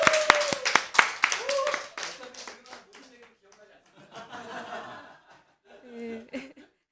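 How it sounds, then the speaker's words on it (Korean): A church audience claps in welcome for the preacher, a burst of close, crisp clapping that fades after a couple of seconds, mixed with chuckles and murmured talk. "우리 기대하는 마음으로 박수로 진행하도록 하겠습니다"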